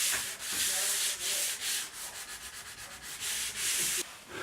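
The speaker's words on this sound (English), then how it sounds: "it's time to sand down any irregularities that have occurred due to the wood swelling" Rhythmic sanding on a wooden door oiled with linseed oil, with repeated rasping back-and-forth strokes, close and steady, no voices.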